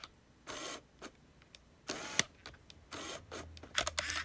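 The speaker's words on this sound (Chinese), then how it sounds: "这快门正常哈" A Canon EOS Kiss film SLR camera fires its shutter in a series of quiet, sharp mechanical clicks and short whirring motor bursts, spaced irregularly and heard close in a quiet room.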